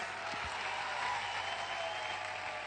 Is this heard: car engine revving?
no